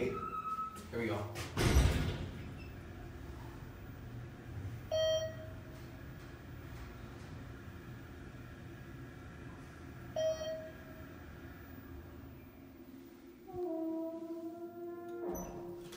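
A ThyssenKrupp elevator's doors thud and slide while short electronic beeps sound several times at intervals, with someone talking over the hum of the car.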